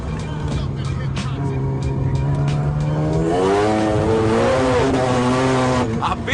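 A Mazda RX-8 rotary engine revs up gradually, its pitch climbing in rising sweeps from inside the car, loud and close, with a voice talking over it.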